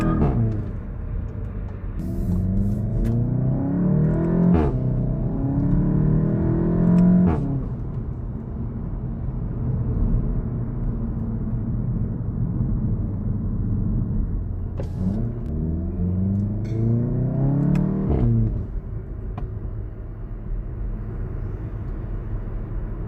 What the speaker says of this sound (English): That free flow exhaust just makes a huge difference, especially compared to a standard Golf GTI.